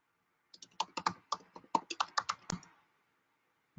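Typing numbers on a computer keyboard, with a fast run of about a dozen crisp, close key clicks in an uneven rhythm and no speech.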